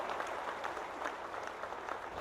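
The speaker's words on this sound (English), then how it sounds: "Let's give them a big round of applause for having come here." Brief, moderately quiet applause from an audience at Deputy President Cyril Ramaphosa's 2016 South Sudan visit, an even wash of many hands clapping throughout.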